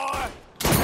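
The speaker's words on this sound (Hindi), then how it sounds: "दीवार पे गोलियां मार दी इसने चढ़ा के" Gunfire striking a wall in Mafia 3, a short volley of loud, dense shots that dips briefly before a second burst erupts even louder.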